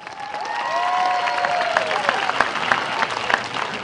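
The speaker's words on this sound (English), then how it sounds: "Class of 2012, please give your families and friends a round of applause" Graduation audience at a high school commencement breaks into steady applause, a dense wash of many hands clapping with a few cheers rising above, loud and sustained throughout.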